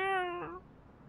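A single drawn-out meow imitated by a human voice during a tabletop role-play session, about half a second long, fairly loud and close, bending in pitch before fading into quiet room noise.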